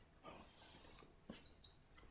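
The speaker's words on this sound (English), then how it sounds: "I have a dog next to me." A dog close by breathes and snorts in a few short bursts, a soft breathy stretch followed by a sharper snort, in an otherwise quiet room with no talking.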